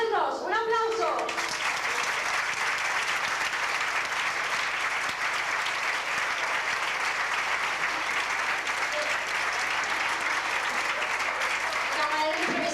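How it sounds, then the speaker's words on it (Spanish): Sustained audience applause for three tenors at a neighbourhood festival gathering, a thick, even roar of clapping that holds steady throughout, with a brief voice at the very start and end. "Tres tenores estupendos. ¡Un aplauso!"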